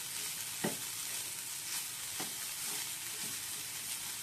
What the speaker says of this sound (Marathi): पनीर पण छान मिक्स करून घ्यायचं ह्याच्यात.